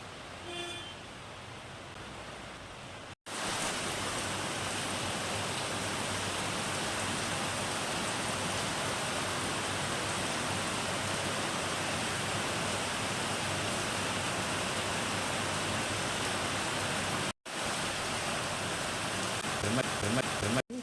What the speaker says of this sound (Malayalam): പുറത്ത് മഴ കാരണമാണ് കുറച്ച് നേരം പറയാതിരുന്നത്.